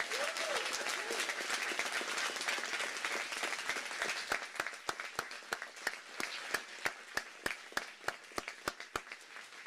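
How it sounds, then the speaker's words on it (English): An audience at a medical school white coat ceremony applauds, dense clapping that thins into a few scattered, separate claps toward the end. "Let's give them a huge round of applause."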